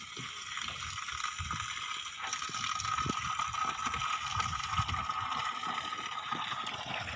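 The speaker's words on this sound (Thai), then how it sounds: "วันนี้น้ำไหลนะครับ น้ำไหล" Water flowing steadily from a solar-powered submersible pump into a tank, heard in the afternoon as a continuous close gush and splash with no talking.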